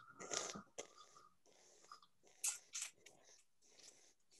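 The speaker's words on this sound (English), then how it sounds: "So I'm slurping. I'm hissing in air" Someone slurps olive oil while tasting it, drawing air through it in a few short hissing, wet bursts separated by quiet pauses, close and soft.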